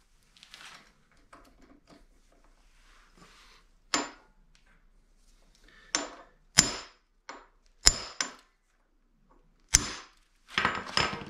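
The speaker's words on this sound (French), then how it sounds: "Je vais prendre un impact manuel avec le marteau, ça devrait venir." A hammer strikes a manual impact driver on the fork of a 2008 Harley-Davidson FLH, with several sharp metallic blows spaced irregularly, the last few clustered close together, and quiet handling noises between them.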